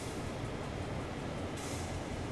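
Santa Fe SD40 diesel locomotive in Train Sim World, a steady low engine drone with rail rumble running continuously, with a brief hiss-like lift in the highs near the end.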